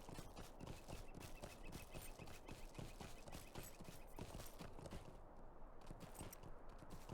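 Steady clip-clop of horse hooves from a mounted character riding along a road in the online game Lord of the Rings Online, a fast even rhythm of quiet hoofbeats.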